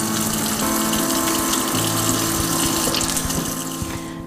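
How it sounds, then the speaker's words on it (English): Running tap water gushes steadily into a sink as a pan is rinsed clean of raw lamb juices, a continuous close splashing stream with no talk. "I'm just gonna go give this a little wash off because I have cross-contaminated it with some lamb juice."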